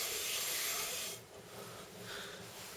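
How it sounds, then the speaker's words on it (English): An ENJO cloth is rubbed over a kitchen surface, a close scratchy swishing that is strong for about a second and then continues more softly, with no voices. "I'm just going to take the duo cloth and just rub a little bit more"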